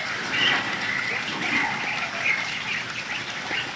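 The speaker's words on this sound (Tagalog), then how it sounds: "next naman natin yung alaga nating pato." Ducks quack and chatter steadily throughout, a continuous flock sound at moderate distance with no talking.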